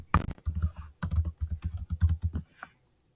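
Brisk typing on a computer keyboard, close and clear: a rapid run of key clicks with a short pause, then another burst before stopping.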